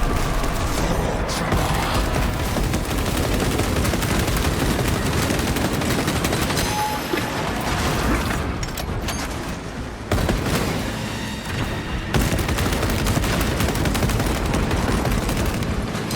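Sustained, dense gunfire with booming impacts fills the battle in Warhammer 40,000: Space Marine 2. Heavy automatic fire rolls on almost continuously and loudly, with short dips before it surges again.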